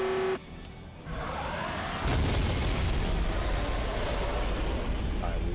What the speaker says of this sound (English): And we get to watch this beautiful explosion.